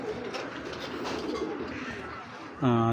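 Dense, low cooing from several pigeons fills the clip, with a louder, nearer coo near the end; steady murmuring background throughout.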